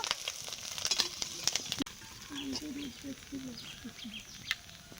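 Puti fish frying in oil give off a loud crackling sizzle for the first two seconds, which then settles into a softer, steady hiss while a voice and some high chirping sound over it.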